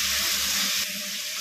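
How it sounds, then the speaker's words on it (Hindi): Water is poured into tomato spice masala frying in a pan for kofta curry, a loud, steady gushing hiss for under a second, then easing into a softer sizzle. "और थोड़ा सा इसमें पानी डाल देंगे ताकि हमारा मसाला जो है लगे नहीं।"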